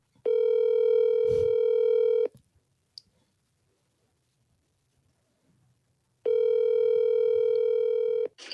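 A telephone call being placed: a steady, loud ringback tone sounds for about two seconds, goes silent with a couple of faint clicks, then rings again near the end.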